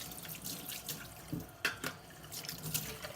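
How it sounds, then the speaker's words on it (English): A kitchen tap runs water over a cast iron pan during a quick rinse, giving a close splashing, trickling flow with a few drips and light knocks against the metal. "Just give this a little rinse."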